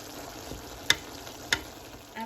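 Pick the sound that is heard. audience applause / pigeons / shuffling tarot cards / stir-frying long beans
stir-frying long beans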